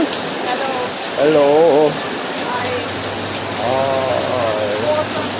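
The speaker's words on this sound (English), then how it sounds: "It's still raining. Like the Dickens." Heavy rain pours steadily with a broad hiss, continuous beneath short stretches of nearby talk.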